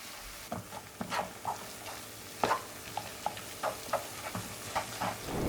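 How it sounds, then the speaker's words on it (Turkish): Apple pie filling stirred in a pan on a stovetop, with a steady soft sizzle under repeated scraping strokes of a spoon at an even rhythm, close and moderately quiet, no voices. "Şimdi hepsini karıştırıyorum"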